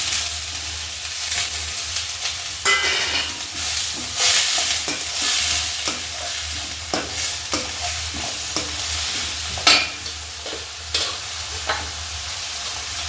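Green onion hits a pan of frying cumin, asafoetida and green garlic for a Kathiyawadi brinjal olo. A steady, close sizzle runs under repeated scraping stirs and clacks from a spoon.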